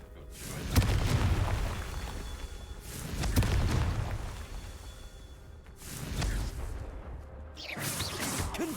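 Several Confringo spell explosions in a video game, deep booming blasts with whooshing tails arriving every two to three seconds, fairly loud and close with no talk over them.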